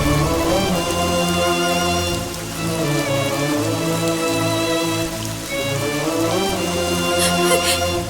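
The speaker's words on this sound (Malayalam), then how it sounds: "കൃഷ്ണൻ എന്തിനാ ഇങ്ങനെ മഴ നനയുന്നേ?" Heavy rain pours down in a steady, continuous wash with no pauses, filling the whole clip with dense noise beneath sustained tonal sound.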